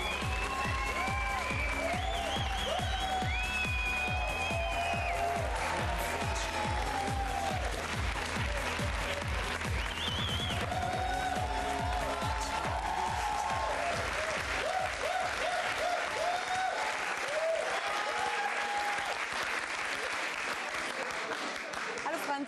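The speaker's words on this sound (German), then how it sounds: "Du merkst es, tosender Beifall hier." A TV talk show studio audience greets a guest with loud, sustained applause and cheering that fills the room for over twenty seconds, with a host's voice briefly heard over it.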